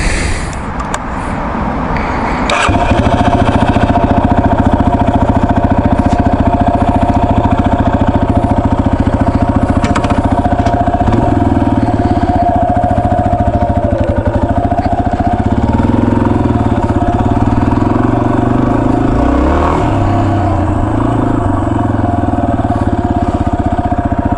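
Motorcycle engine starting up and then running loudly and steadily up close, a throbbing mid-pitched drone with slight rises and dips in revs, no talking.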